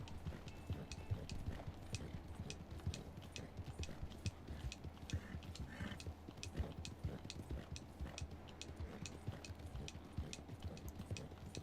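A tired horse in Red Dead Redemption 2 clip-clops at a steady walking rhythm, hoofbeats evenly spaced and fairly quiet against a soft outdoor background.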